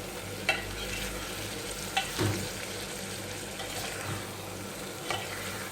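Moong dal with green chillies is stirred in a pan, giving a steady soft frying hiss with a few light spoon taps, close by and without talk.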